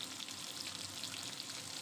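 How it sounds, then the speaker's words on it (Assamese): Chicken pieces fry in oil left over from browning onions, making a soft, continuous crackling sizzle with small popping bursts and no voices. "সেইখিনি তেলতে মই অলপ চিকেন ভাজি ল'ম"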